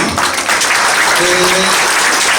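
Pupils and guests at a school ceremony honoring top regional students applaud, a brief loud burst of clapping with a voice briefly audible underneath.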